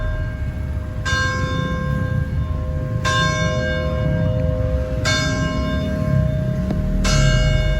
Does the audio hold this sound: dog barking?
no